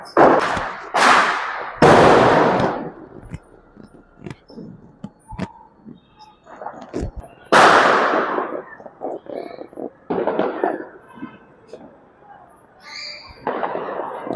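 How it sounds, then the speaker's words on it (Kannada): Loud Diwali firecrackers go off in separate sharp bursts, a few close and booming, others fainter in the distance, with scattered crackles between them. "ನಿಮಗೆ ಬರೀ ಪಟಾಕಿ ಸೌಂಡೇ ಕೇಳಿಸ್ಬೋದು ಪಟಾಕಿ ಹೊಡಿತಾ ಇದ್ದಾರೆ"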